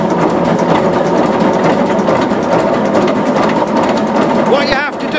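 An Aveling Barford DY road roller's engine runs steadily with a loud, fast mechanical chatter as the throttle is opened a little, alone and close.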